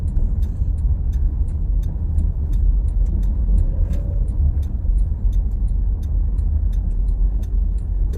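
Cars on the Jakarta–Tangerang toll road, heard from inside a moving vehicle: a loud, steady road roar and engine rumble, with a faint, regular ticking running throughout.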